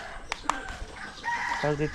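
Chickens cluck and give short crowing calls at a fishing-camp setting, a couple of sharp clicks early on, then rising harmonic clucks near the end, fairly close and moderately loud.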